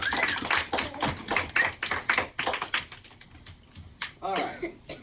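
A class of elementary school children applauds for a classmate, a burst of dense, sharp clapping that thins out and fades partway through, with a brief scattered patter of claps near the end.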